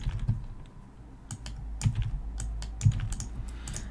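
Ctrl D shortcuts tapped repeatedly on a computer keyboard while building a financial spreadsheet dashboard, giving quick close clicks in small irregular clusters over a quiet room.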